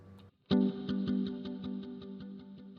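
Guitar played through a Boss RV-500 pedal stacking two reverbs: one struck chord followed by a rhythmic string of repeating pulses that trail off into a lush, lingering wash.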